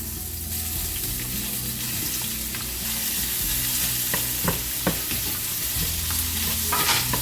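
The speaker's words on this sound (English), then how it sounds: "Now into the same oil, we are going to put the onions." Onions frying in oil already used to fry fish, a steady close sizzle with occasional stirring clinks and scrapes of a utensil, no talking.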